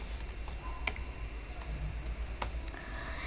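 Quiet, irregular keystrokes on a computer keyboard while code is typed, a scattering of light clicks with small pauses between them, near and faint.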